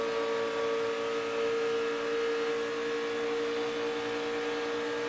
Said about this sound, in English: You can hear Kurziewski just holding that thing wide open around here.